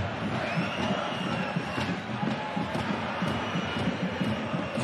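A Bundesliga stadium crowd at Heidenheim v RB Leipzig surges with a steady, loud roar as a near goal chance builds, dense and continuous with scattered shouts and whistles above the wash of voices.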